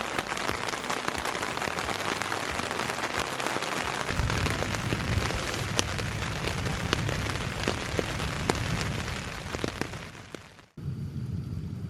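Heavy rain pours onto a tent at a camp along the Arizona Trail, a dense, constant drumming with sharp individual drops. A brief break near the end is followed by steady rain again.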